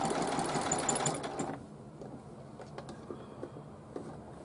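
A sewing machine runs close and steady while stitching a pillowcase seam over bulky French-seamed fabric, then stops and leaves faint handling noises.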